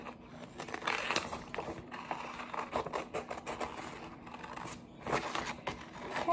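Scissors snip through colored paper to cut out a simple person figure in an art class, giving a close run of dry, crisp clips and crinkles with short pauses between cuts.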